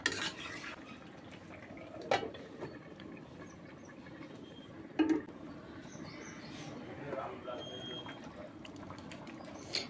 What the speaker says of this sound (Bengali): সিদ্ধ হয়েছে কি না তা দেখার জন্য আবার ঢাকনা খুলে আবার নাড়াচাড়া করে দেখছি